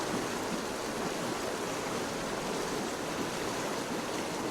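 A tiny Welsh trout stream flows in the rain, giving a steady, dense broadband rush of water that stays even and unbroken throughout, with no voices.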